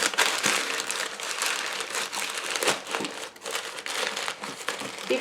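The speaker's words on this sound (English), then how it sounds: "I'm going to gently fill this with paper." Newsprint packing paper crumpled by hand to fill a shipping box, a close, continuous crackle and crinkle with irregular louder rustles throughout.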